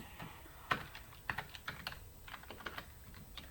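Typing code on a computer keyboard, irregular soft key clicks at a quiet level, with a few sharper taps among them.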